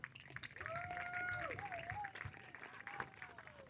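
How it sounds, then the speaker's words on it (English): An audience gives a round of applause for a man being honored, a faint spread of clapping heard behind a person talking and a whistling, sliding tone. "How about a round of applause for Mr."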